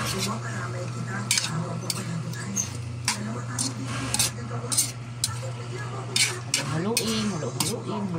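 A spoon stirs chicken tinola in a pot, giving repeated scraping clanks against the metal at an uneven pace over a low simmering bubble, with people talking nearby.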